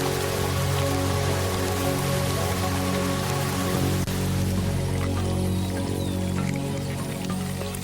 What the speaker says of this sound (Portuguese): Isto é mais que chuva, mais que água para beber.